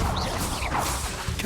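The Bombarda blasting spell in Hogwarts Legacy, a short loud crashing impact with whooshing swishes layered over it, all packed into a dense burst of about a second and a half.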